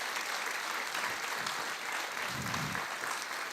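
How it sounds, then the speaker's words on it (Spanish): Church congregation applause fills a room at a Christian sermon, dense steady clapping for several seconds with no talk over it. "¿Cuántos le dan un aplauso al Dios de los imposibles?"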